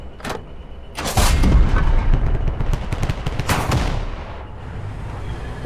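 Bursts of video game gunfire in a multiplayer shooter match, loud and close, with a dense cluster of shots followed by scattered single cracks and a fading tail.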